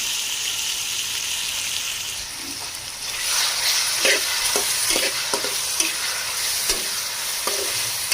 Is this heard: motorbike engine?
no